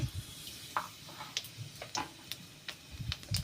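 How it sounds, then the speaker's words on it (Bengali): Black cumin seeds dropped into hot oil on a low gas flame while pabda fish curry is being cooked, giving faint, scattered crackles and ticks in short bursts against a quiet background. "এবার তেল গরম হয়ে গেছে এবার আমি দেবো কালো জিরের ফোড়ন দেবো"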